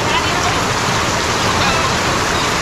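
Heavy typhoon rain pours down in a dense, steady roar of broadband hiss that stays loud and unbroken throughout, with no voices audible over it.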